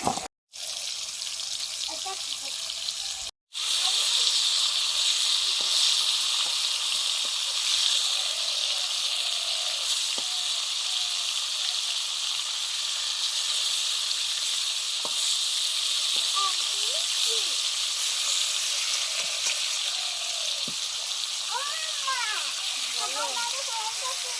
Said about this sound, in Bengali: ঝোলের বেগুন আলুগুলো ধুয়ে নিয়ে নুন হলুদ মাখিয়ে নিচ্ছি হালকা ভেজে নেওয়ার জন্য।